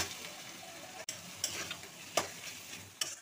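Potato pieces tipped into a pan of cumin seeds sizzling in hot oil, with a steady crackling fry punctuated by a sharp knock and several bursts of stirring scrapes, close and fairly quiet.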